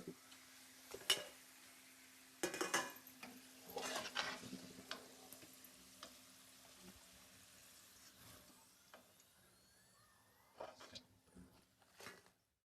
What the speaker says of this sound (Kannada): ಎಣ್ಣೆಲಿ ಫ್ರೈ ಮಾಡ್ಕೊಳ್ತಾ ಇದ್ದೀವಿ